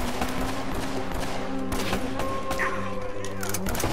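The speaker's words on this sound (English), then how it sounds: "they're literally just shooting from everywhere" Gunfire in Uncharted: Drake's Fortune during a jetski getaway, shots cracking in a busy, dense stream with thumps and tonal game sounds layered over steady background score.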